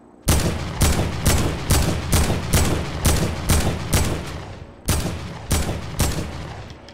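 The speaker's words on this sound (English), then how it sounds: "this guy is a semi-auto sniper" A semi-auto sniper rifle in Fortnite fires about eleven loud, sharp shots at a steady rhythm with one brief pause, each crack trailing off in a short echo, close and alone without talk.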